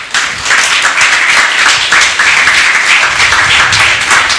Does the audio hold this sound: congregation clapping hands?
yes